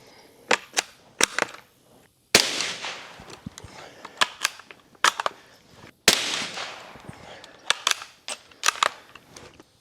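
Shots from a small .22 rifle with open sights fired outdoors, sharp cracks coming singly and in quick pairs with short gaps between them, plus two louder, longer blasts that ring out and slowly fade.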